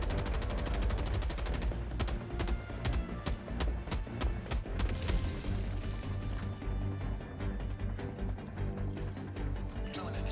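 Heavy machine gun fire in Helldivers 2 hammers out rapid, dense bursts against automatons, loud and continuous with sharp individual shots, over booming game music and impacts.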